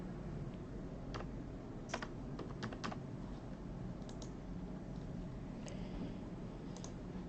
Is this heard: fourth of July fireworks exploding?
no